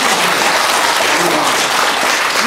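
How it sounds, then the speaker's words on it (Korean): Audience applause fills a small theatre at a Korean traditional music recital, a dense, steady clapping that stays loud and even throughout without breaks. "우리 인물 사진의 대가 아주 우리 예, 박수."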